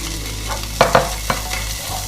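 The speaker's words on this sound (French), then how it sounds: "Donc je vais mettre mon ail et mes anchois." Garlic and anchovies cooking in a pan over very low heat, a soft steady sizzle with a few brief clatters of stirring, close by and with no talking.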